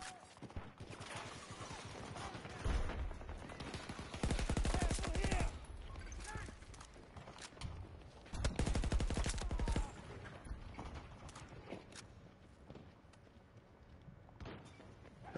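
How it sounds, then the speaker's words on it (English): Video game gunfire from an enemy shooting from a crane: two dense bursts of rapid automatic fire, each lasting a second or two, mixed with scattered single shots and game noise, with faint talk underneath. "shooting at me from the crane"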